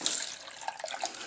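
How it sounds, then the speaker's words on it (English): Milk being poured from a cup into a pan while making stovetop mac and cheese, a close, steady liquid splash and trickle lasting about a second with small drips toward the end. "Now we put our 2 cups of milk in."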